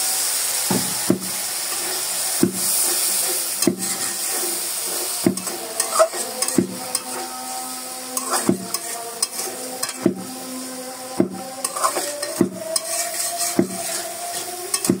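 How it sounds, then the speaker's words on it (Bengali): New potatoes being sautéed with spices in a pan for a guchi fish dish after a splash of water, a low sizzle broken by regular sharp spatula knocks and scrapes against the pan, close and without talk. "দেখুন ভালো করে এই মশলার সাথে আলুটা ভালো করে কষাতে হবে। একটু পরিমাণ একটু জল দিয়ে দিই"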